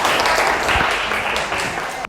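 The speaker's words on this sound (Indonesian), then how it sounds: "tepuk tangan buat Aura Cesa" Classmates applaud a student in a school lesson, a brief round of close, dense clapping that tapers off and stops abruptly.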